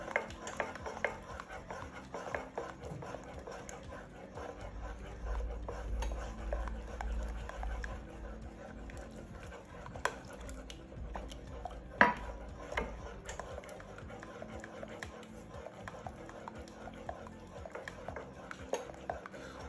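A spoon stirs a lumpy muffin batter in a bowl, giving faint, irregular scraping and soft clinks against the bowl across the whole stretch, with a few sharper knocks and some quiet speech now and then.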